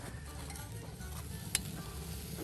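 Bacon rendering in a pan over an outdoor campfire in the Alps, cooked for a winter tartiflette, gives a faint, steady low sizzle with one sharp click partway through.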